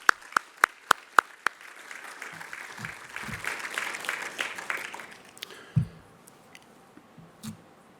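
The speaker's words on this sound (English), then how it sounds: "So one last round of applause." A conference audience gives a brief, fairly thin round of applause at an award event, a few sharp claps opening into a light patter that fades within seconds, followed by scattered quiet knocks.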